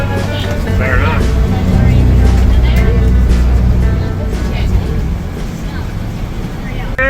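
Steady low road and engine rumble from inside a car driving through California cornfields, continuous and fairly loud, with people talking over it.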